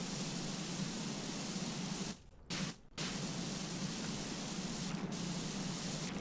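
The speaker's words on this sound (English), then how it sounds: "Use R1 to use the spray." A pressure washer sprays steadily in Power Wash Simulator, a loud continuous hiss that cuts out twice briefly and resumes.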